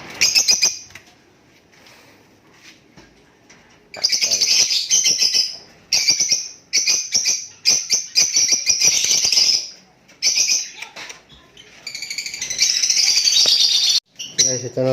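Crossbred pet birds chirp loudly and excitedly while being caught and handled, with a dense burst of close tweets, some brief pauses and a flutter of wings.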